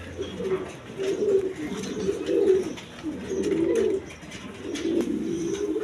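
Pair of pigeons, a German Beauty and a Lotan, cooing in repeated low rolling phrases, close and steady with faint background noise.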